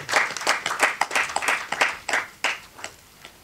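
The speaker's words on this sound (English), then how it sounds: "So I guess we should really applaud that." An audience at an Indian harmonica day celebration claps during a bouquet presentation, a short burst of rhythmic, fairly close hand claps that thins out toward the end.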